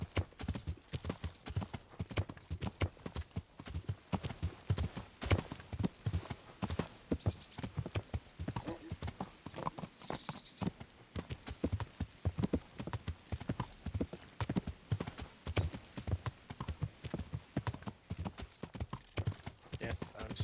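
Steady, rhythmic hoofbeats of a horse in the video game Kingdom Come: Deliverance clip-clopping along at a walking pace, with occasional faint background sounds.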